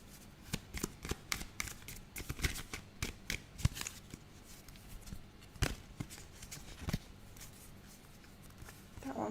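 Oracle cards being shuffled and handled at close range, with quick papery riffles, slaps and flicks in irregular bursts, fairly quiet with no talking.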